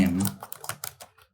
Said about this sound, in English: so I'm going to write the query like this.